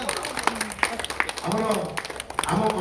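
Villagers clap in welcome at a Shiva temple festival in a village, scattered applause from a crowd beneath a loudspeaker voice that keeps talking.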